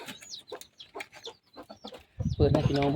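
A penned fighting-breed hen and gamecocks give quick, choppy clucks close by, ending in a louder, drawn-out harmonic call during the final second, with someone talking nearby.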